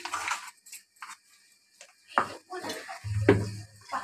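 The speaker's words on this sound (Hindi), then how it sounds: "देखिए अच्छे से मिक्स कर देना है दही को" Spoon stirring yogurt into biryani masala in a metal pot: scattered scraping and clinking strokes at an uneven pace, close and fairly quiet, ending in a brief low knock.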